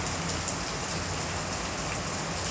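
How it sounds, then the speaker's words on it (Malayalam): Steady rain falls continuously at an inauguration event in Karuvarakundu, a dense, even hiss of drops on surfaces with no voices and no pause across the short stretch. "മഴ പെയ്യാൻ തുടങ്ങിയിട്ടുണ്ട് കേട്ടോ"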